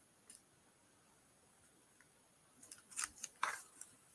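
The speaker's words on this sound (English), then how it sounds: "so I'll use scissors." Scissors snipping through craft material at a table, a few quick close cuts clustered near the end after a mostly quiet stretch.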